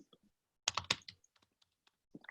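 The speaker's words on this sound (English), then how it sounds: "New keyboard today." Keys clatter on a new computer keyboard in a quick burst of close, crisp clicks, then scattered single taps trail off into near silence.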